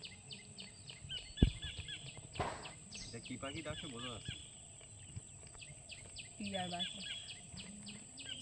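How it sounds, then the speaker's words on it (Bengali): Morning birds of various species chirp and call in the Sundarbans river forest, faint and scattered, with short bursts of tweeting mixed with people talking nearby. "এই সকালের টাইমে কিন্তু বিভিন্ন প্রজাতির পাখির ডাক শোনা যায়"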